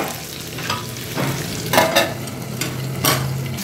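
Potatoes fry in a pan for a cauliflower dalna, giving a steady close sizzle broken by four or five scraping stirs of a spatula at regular intervals, with no talking.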